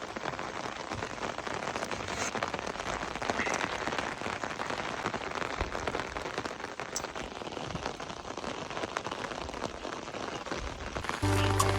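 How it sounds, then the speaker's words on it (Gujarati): Steady rain patters on a rooftop terrace, easing slightly, a continuous even hiss of drops with scattered sharper taps, moderately close. "વરસાદ થોડોક ધીરો પડ્યો છે"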